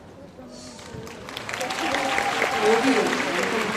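Applause swells from an audience at the Blue Wave Music Festival during a stage talk, growing louder and fuller partway through while people speak over it.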